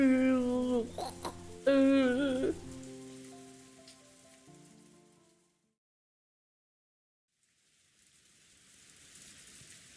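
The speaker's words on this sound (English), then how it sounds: "As Ange slept, she was wrapped up in the soft sound of the rain." Soft rain patters faintly in a quiet scene from the Umineko visual novel, first under fading music, then dropping almost to silence before a low, steady hiss of rainfall returns.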